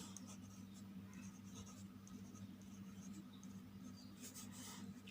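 A pen writing on paper while an account-balance problem from a class 7 maths lesson is worked out, a soft continuous scratching close by over a low steady hum.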